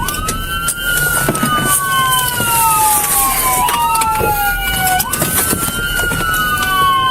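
A police car siren wails in repeated rising and falling sweeps during a high-speed chase, loud and close as if from the cruiser itself, with engine and road noise underneath.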